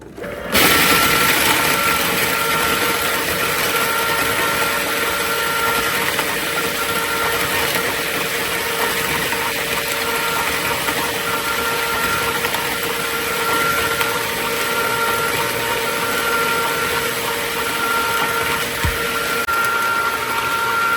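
A homemade strawberry ice cream maker running, a steady loud mechanical whir and hum that continues unbroken throughout.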